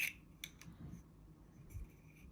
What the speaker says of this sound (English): I need to do a little bit of trimming for these holes at the end